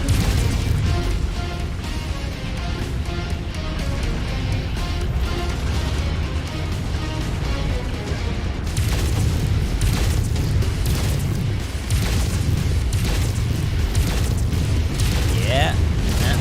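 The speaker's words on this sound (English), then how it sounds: "it's just you firing your burst fire auto cannon" A burst-fire autocannon on a mech in the video game Mechwarrior 5 fires in heavy, booming bursts amid continuous loud battle rumble and crashes, with someone talking over the noise.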